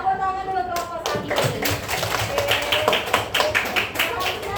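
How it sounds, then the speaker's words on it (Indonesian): Classroom applause for a student group, a dense burst of many hands clapping quickly and unevenly, continuing steadily with voices mixed underneath. "Tepuk tangan dulu kelompok 1."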